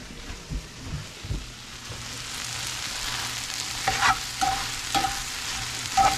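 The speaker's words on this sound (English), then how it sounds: "I'm gonna let it cook just a little bit more, because I have those tomatoes in there" Tomatoes and onions cook in a pan with a continuous soft frying hiss, while a spoon stirs and scrapes in a few distinct taps near the end.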